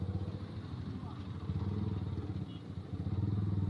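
Close motorcycle engine runs with a rapid throbbing, pulsing rumble that stays loud throughout, passing near the listener.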